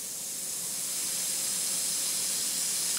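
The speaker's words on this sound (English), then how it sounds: "Quick test spray" An airbrush spraying a quick test burst of mixed paint for a Bf 109G scale model, a steady close hiss that swells slightly and holds for about three seconds with no talk.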